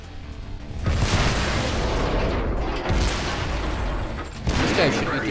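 Artillery shells burst in the tank battle game World of Tanks, heavy booming blasts with sustained rumbling roar, two louder impacts standing out, loud and close.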